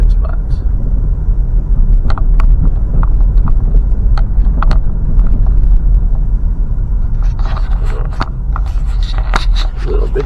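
A car drives slowly through a lakeside park, its engine and road rumble a steady, loud low drone throughout, with scattered clicks and light knocks over it and no voices.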